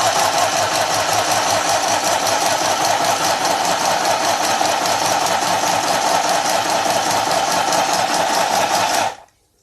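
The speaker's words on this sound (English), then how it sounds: "Now let's start stitching on vellum." A portable sewing machine stitches through vellum with a loud, close, steady mechanical whir and fast rhythmic needle chatter that runs nonstop for about nine seconds, then cuts off abruptly.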